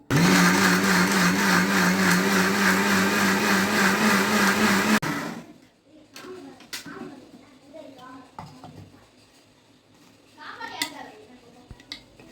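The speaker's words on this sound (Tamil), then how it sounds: "இது எல்லாத்தையும் 30 செகண்ட்ஸ்க்கு பிளெண்ட் பண்ணணும்" Blender whirring loudly and steadily for about five seconds as it mixes cake batter of brown sugar, vanilla essence and oil, then cuts off abruptly, leaving faint kitchen clatter and voices.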